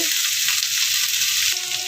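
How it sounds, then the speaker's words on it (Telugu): Steady, dense sizzling of onions frying in hot oil, a continuous crackling hiss close by with no voices. "గోల్డ్ కలర్లో వచ్చే వరకు అయితే వేగనివ్వాలండి"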